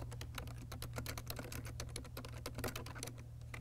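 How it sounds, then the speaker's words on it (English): Typing on a computer keyboard, a steady run of quick, close key clicks with no talking, heard alone over a low background hum. "And so now I'll type the rest of it."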